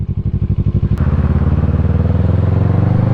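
A motorcycle engine idling close by with a rapid, lumpy putter, then revving up into a steady, louder drone.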